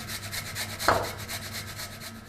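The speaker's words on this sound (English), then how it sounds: "I'm just going to grate in quite a bit of ginger to give it some flavour." Fresh ginger with the skin on rubbed against a grater, a short close scraping with one brief louder rasp, quiet and alone.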